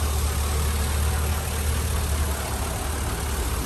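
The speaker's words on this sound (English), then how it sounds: "Super quiet motor." A 2003 Chevrolet SSR engine idles at close range, a steady, smooth low rumble with a constant broadband hiss and no change in pace.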